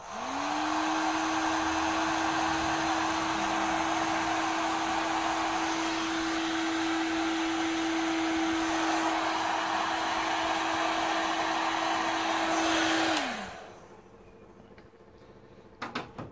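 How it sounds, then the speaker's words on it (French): Heat gun running steadily on heat-shrink tubing during wiring work on a three-wheeled kit car with a Citroën 2CV engine, a constant close whir and airy hiss for about thirteen seconds before it winds down and stops, leaving near silence. "je recouvre de ma gaine thermo. Voilà. Un petit coup de pistolet thermique."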